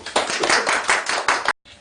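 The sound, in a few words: audience applause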